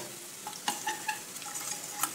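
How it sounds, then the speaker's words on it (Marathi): Turmeric, chilli powder and salt being stirred into hot oil over low gas, a soft sizzle broken by several quick scraping clicks of the spoon against the pan, close and brief. "तेलामध्ये हलवून घ्यायचं."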